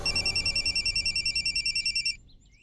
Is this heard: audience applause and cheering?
no